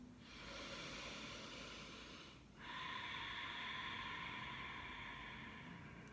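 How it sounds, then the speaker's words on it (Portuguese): Two long, slow breaths: a soft, airy inhale that fades, a brief pause, then a steady hissing exhale, all quiet and close. "Respiração."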